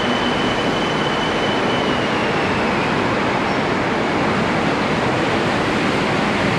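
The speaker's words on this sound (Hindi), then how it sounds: "ये इस तरह ट्रेन होती है।" A BTS Skytrain in Bangkok rolls through a station near Siam, a loud, steady rushing rumble of wheels and wind that fills the whole stretch with no letup.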